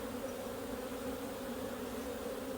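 Honey bees drone steadily around a comb honey hive at a sheep farm bee yard during the honey flow, a close, continuous buzzing swarm with no talking.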